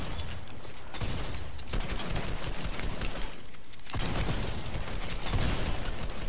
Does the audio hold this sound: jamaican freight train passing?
no